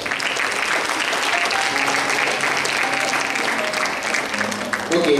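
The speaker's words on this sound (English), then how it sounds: "give a big round of applause to your teachers" An audience at an A J Institute of Allied Health Sciences graduation ceremony in Mangaluru applauds its teachers, a dense, sustained burst of clapping from a large crowd lasting several seconds.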